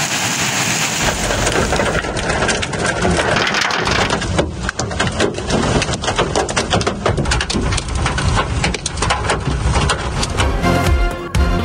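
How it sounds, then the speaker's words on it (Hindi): Heavy rain with hail pours down in Islamabad, a loud dense steady roar of drops striking surfaces with sharp pelting impacts throughout, with no voices. "इस्लामाबाद में मूसलाधार बारिश के साथ यालाबारी"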